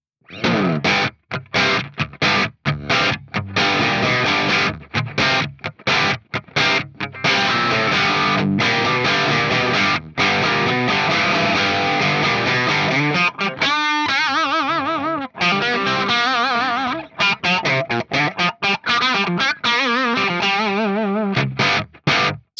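Electric guitar run through a Soldano amp model on an Axe Fx, set with lower input drive and boosted presence, plays a loud, distorted classic-rock rhythm with choppy chords and brief pauses, alone throughout.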